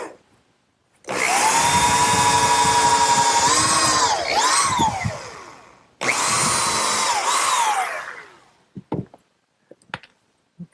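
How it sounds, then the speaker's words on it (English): A power drill pre-drills screw holes in pressure-treated lumber, running in two loud bursts with its pitch rising and falling. The second burst stops abruptly, and a few light knocks follow. "pre-drill some holes for the screws"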